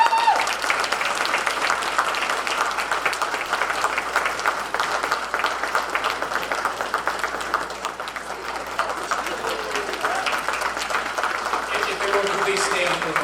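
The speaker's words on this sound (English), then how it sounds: "can we please take a moment to give a round of applause for Maureen Willis" An audience at the Woburn Hall of Fame 2024 gives a long, even round of applause, steady dense clapping from many hands with faint background murmur.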